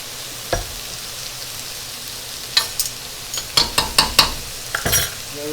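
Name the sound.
stir fry sizzling with light soy and oyster sauce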